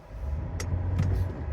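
A car travels along a local road near a creek on a hillside, a steady low rumble of tyres and engine holding throughout with light hiss above, no voices.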